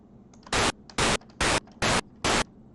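Five evenly spaced bursts of harsh white-noise hiss from the PICO-8 chiptune sound editor, each about a fifth of a second long with short gaps between, loud and alone over a faint background.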